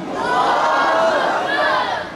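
A large crowd at a Jamiat Ulema-e-Islam (JUI-F) religious gathering roars a slogan back in response to a Takbir call, with dense, sustained massed voices rising and holding for about two seconds.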